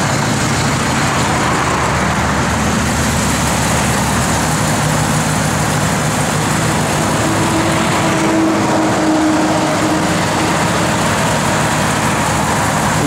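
A 1966 Chevrolet Impala SS engine runs with a loud, steady, continuous rumble and no talk over it.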